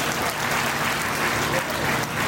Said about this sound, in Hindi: एक बार आप अपने लिए ताली बजा लीजिए